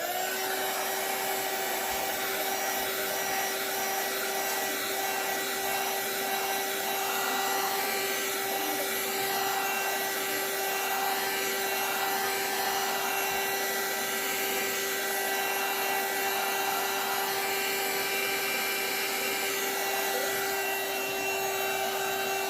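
A hair dryer blows steadily over a wet coloring page, a continuous loud whir with a fixed tone that holds unbroken for the whole stretch, with no voices over it.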